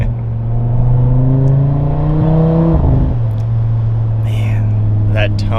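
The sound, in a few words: Audi RS3 modified exhaust overrun while cruising in second gear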